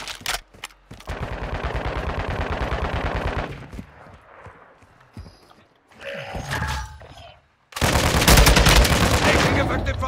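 Bursts of automatic gunfire in Warzone 2.0, a dense rattling volley near and loud, then quieter scattered shots and clatter, followed by another heavy sustained burst at the end.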